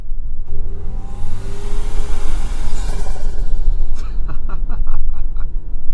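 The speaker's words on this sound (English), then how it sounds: "So this is a turbocharged engine, so you can hear the turbo like right here." A 2025 Toyota 4Runner Trailhunter's turbocharged engine pulls hard under acceleration, rising in pitch and loudness with a rushing turbo whoosh, and a short run of rapid clicks near the end.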